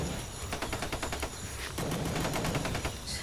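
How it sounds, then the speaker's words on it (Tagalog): Gunfire rings out from a distance in a clash with bandits, with rapid bursts of muffled shots in quick strings that sound faint and far away, and no voices. "Ang kaso nga lang ay mahina pa yung mga putok. Parang nasa malayo."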